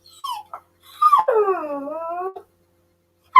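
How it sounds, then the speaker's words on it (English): A dog vocalizing indoors in a few close, drawn-out whining, howl-like cries rather than sharp barks, the longest rising and falling over about a second, with short pauses between. "She's just barking away."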